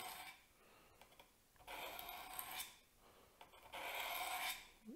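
Knife blade being drawn across the abrasive of a Work Sharp Angle Set sharpener, rasping strokes in two longer passes with fainter scraping between, close and fairly quiet.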